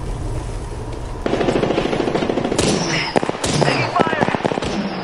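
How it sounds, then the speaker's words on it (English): Gunfire in the Apex Legends video game: rapid automatic bursts and sharp shots crackle loudly over a noisy combat scene, with a voice talking beneath the shooting. "Taking fire! Combat's too noisy."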